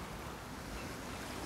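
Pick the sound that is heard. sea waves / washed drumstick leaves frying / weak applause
sea waves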